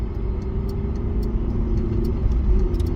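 A car drives out nearby, a low steady engine rumble with tyre noise holding constant throughout, fairly close and without voices.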